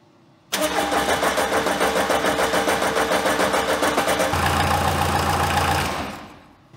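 A small diesel engine on a homemade loader chugs at a low, steady idle, rattling evenly close by, then its note drops slightly and fades as it winds down.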